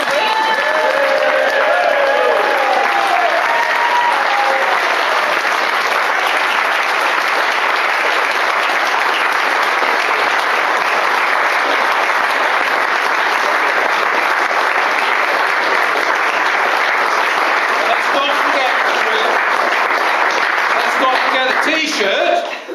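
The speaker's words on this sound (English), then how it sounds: "will everybody stand up and cheer him as he comes to get his award?" Loud sustained applause with cheering from an audience rises as the 2007 overall WSCC champion comes up to collect his award, a dense continuous roar of clapping lasting over twenty seconds and tapering at the end.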